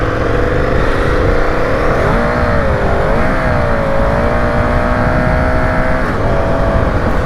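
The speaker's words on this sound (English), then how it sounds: "A nice slow wheel spin there." Continuous engine roar from a vehicle doing a slow wheel spin, the pitch rising and wavering as the motor revs hard, loud and steady throughout with no talk.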